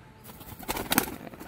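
Tumbler pigeons (hand-flown acrobatic pigeons) flap their wings in a brief flurry of flutters that builds toward the end, fairly close and alone, with no talk over it.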